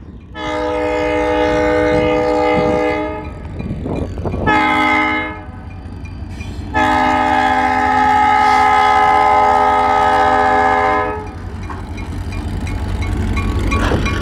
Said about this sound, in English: you might want to brace yourself for the sounding of the horn.